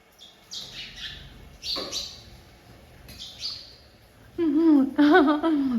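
A pair of birds nesting in a shed call while circling overhead, giving several sharp chirps and squawks at intervals, then a louder burst of tonal, warbling calls near the end.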